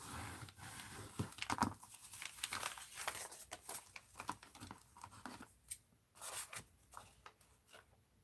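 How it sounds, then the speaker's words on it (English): Scissors snip through paper at an art journal table, quiet close crinkling and clipping strokes in an irregular run, with a few sharper cuts near the end. "I'm going to cut it right at the top of that stovepipe hat."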